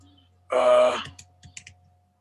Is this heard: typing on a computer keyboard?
yes